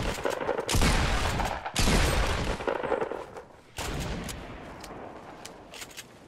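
Gunfire in the battle royale game Fortnite comes as dense, loud bursts of rapid shots that run almost continuously, with brief breaks between the volleys.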